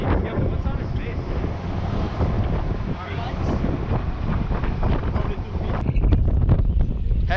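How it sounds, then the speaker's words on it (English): Strong wind buffets the microphone on a fishing boat at sea off the Turks and Caicos, a constant loud roar with water and hull noise beneath, while people talk faintly under it. "there's a lot of wind"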